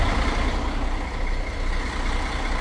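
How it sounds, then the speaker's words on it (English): A truck engine idles steadily nearby, a continuous low rumble with a constant hum that holds level throughout, with no talking. "as you can hear, truck's running"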